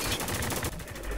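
A quick burst of rapid gunfire in the video game Spec Ops: The Line multiplayer, a fast string of close shots lasting about a second.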